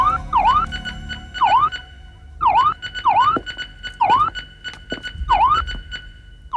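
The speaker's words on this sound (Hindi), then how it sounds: "इस अलार्म का मतलब है कोई आया है।" A rising-and-falling electronic alarm siren in the Shaktimaan TV show whoops in repeated bursts about once a second, loud and clear with brief gaps and thuds between, and no talk.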